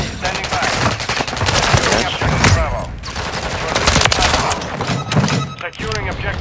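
Gunfire from the video game Call of Duty Modern Warfare 3 (2023) played on Xbox One, dense rapid bursts and thumping shots running throughout, mixed with players talking over it.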